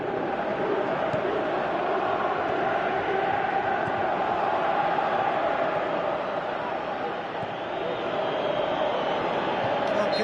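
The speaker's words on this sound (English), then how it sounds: "you can feel and hear how the crowd are reacting to all of this" A virtual stadium crowd in the football game PES 2018 keeps up a dense, steady roar throughout, with a commentator's voice talking over it.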